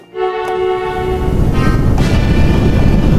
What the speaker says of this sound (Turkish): Şimdi bir de kornasına basalım.